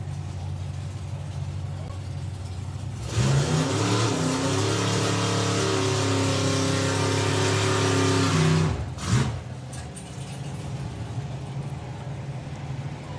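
At the start line of a Summer Nationals drag race, a dragster's engine idles low, then bursts into a loud, sustained rev for about five seconds, cuts off, and gives one short final blip before dropping back to a rumbling idle.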